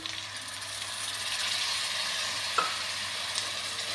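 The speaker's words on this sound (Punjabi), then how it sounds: "ਇਹਨੂੰ ਵੀ ਆਪਾਂ ਸਾਰੇ ਤੜਕੇ ਦੇ ਚੰਗੀ ਤਰ੍ਹਾਂ ਮਿਕਸ ਕਰ ਦਾਂਗੇ" Spinach and tomato paste being stirred into a gram flour tempering in a pan, a steady soft sizzle with faint scraping and one brief clink near the end, close and alone without talk.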